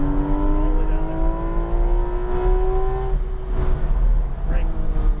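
Porsche 911 GT3 RS engine pulling hard on a race track, loud and close with a steadily rising pitch that dips and climbs again as power rolls back on, while a driving instructor talks over it.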